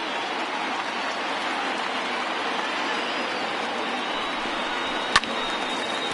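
A stadium crowd roars on its feet in the MLB The Show 20 baseball video game during a Cubs versus Cardinals matchup. The steady, dense cheering holds at a loud level with one brief sharp click near the end.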